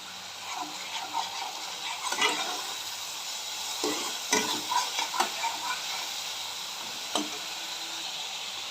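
Ginger, garlic and spice paste fries in a kadai for a rohu fish curry in coconut milk, giving a soft, steady sizzle broken by occasional scraping stirs close by.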